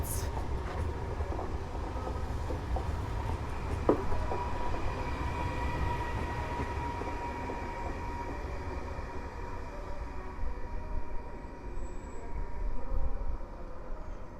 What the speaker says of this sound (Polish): EP09 odpalona i startuje